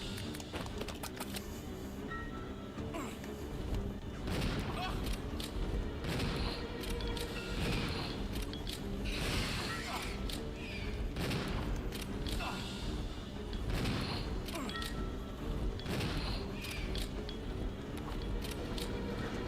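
Gunshots fired at a boss in Resident Evil 0 on PS4, a series of sharp separate reports in an irregular rhythm, fairly quiet and set against steady game background noise.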